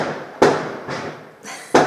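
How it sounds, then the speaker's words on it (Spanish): Fireworks exploding outside, about four sharp booming bursts spaced irregularly, each trailing off with a rumbling decay, fairly distant and heard alone. "Lo que escuchan ahorita son... Fuegos artificiales."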